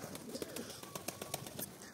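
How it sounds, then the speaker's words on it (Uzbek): Domestic pigeons kept at a house coo softly in repeated rolling pulses. The calls are faint and close, over a quiet background with no speech. "Hurkayda kaptarlar."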